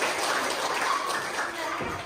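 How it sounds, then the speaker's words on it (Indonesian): Whole class of students applauding together, a continuous dense wash of clapping hands that holds steady throughout at moderate volume. "Oke, tepuk tangan semuanya"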